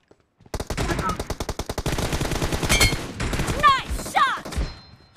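Rapid bursts of automatic gunfire from the BGMI battle royale game in a team deathmatch, a fast rhythmic string of loud shots followed by scattered single shots and impact sounds, with voices talking underneath.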